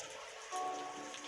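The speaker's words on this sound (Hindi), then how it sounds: "बारिश ने तो मानो इन दोनों को मिलाने की कसम ही खा ली थी, रुकने का नाम ही नहीं ले रही थी।" Heavy rain pours down steadily, a dense, even hiss that grows slightly louder halfway through the short stretch, with no voices.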